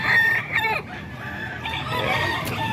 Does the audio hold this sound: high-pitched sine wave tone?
no